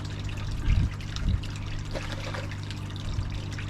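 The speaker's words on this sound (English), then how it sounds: "Apologies for the running noise, obviously that's a pond, so I'm hoping it doesn't overpower my voice." Water running in a garden pond: a constant soft trickle and splash throughout, fairly faint, with a few louder low bumps mixed in.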